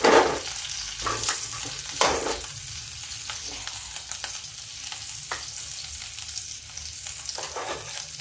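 Garlic and chilli frying in oil over low heat after cumin has gone in, a busy sizzle punctuated by repeated sharp bursts and scraping stirs, nearby and fairly loud.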